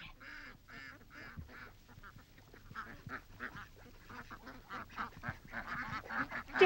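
A flock of ducks quacks in a lakeside setting, a dense, continuous chorus of overlapping quacks that grows louder toward the end.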